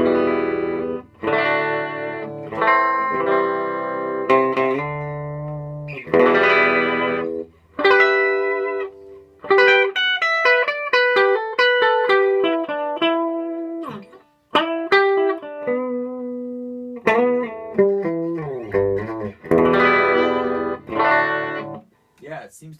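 Electric guitar played through a Quilter Tone Block 45 amp with a clean, very dynamic tone, heard as a run of picked notes, chords and melodic phrases with sharp attacks and short pauses, loud and close with no talking.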